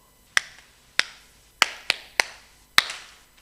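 Six sharp, separate hand claps spaced unevenly in a steady group rhythm, crisp and close, each one ringing briefly in an indoor room with no talking.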